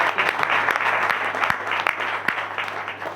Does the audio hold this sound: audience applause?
yes